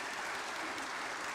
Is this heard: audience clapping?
yes